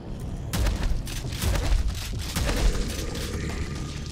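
A barrel blows up in the shooter game Prodeus with a loud, broad boom. Rumbling bursts and crackling follow and keep going for several seconds, with no talking.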